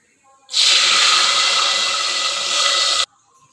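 Water splashing into a hot pan of cumin tempering with cinnamon pieces and bay leaf, bursting into a loud, sustained hiss that lasts about two and a half seconds and then cuts off abruptly.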